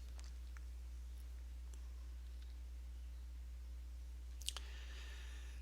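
A few soft, sparse computer mouse clicks tick over a steady low electrical hum, with one slightly sharper double click near the end.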